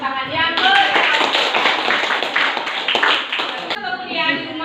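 A short burst of classroom applause from students, brisk and fairly close, with talking over the clapping before and after it.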